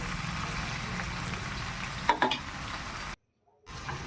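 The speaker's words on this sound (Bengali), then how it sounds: "তো খুব ভালো করে ভাজা হয়ে আসলো প্রায়" Vegetables fry in a pan for fried rice, giving a steady, close sizzle with a few stirring clatters near the middle, then a brief drop to silence before the frying resumes.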